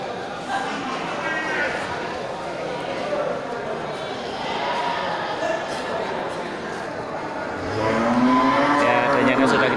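Large cattle moo at a livestock market in Geulumpang Payong, with several low drawn-out calls rising over a busy background of crowd noise, the loudest moo close by toward the end.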